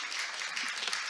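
A conference audience applauds at the end of a lecture, a soft, continuous patter of many hands that sounds distant and fairly quiet for a brief moment.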